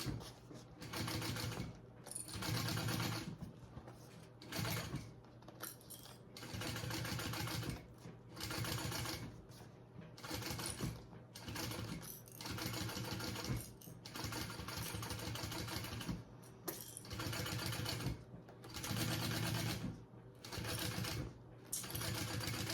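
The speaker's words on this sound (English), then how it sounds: "you're gonna sew that on again at your seam allowance" Sewing machine stitching a seam on fabric, running in bursts of fast, steady mechanical whirring and needle clatter separated by short pauses, close and fairly quiet, with no talking.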